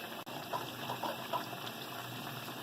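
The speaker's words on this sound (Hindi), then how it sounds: "अब इसमें हम चावल डालेंगे।" Rice is poured into a large pot of white chicken biryani korma masala, giving a soft, faint rushing patter that runs continuously, with a brief pause near the start.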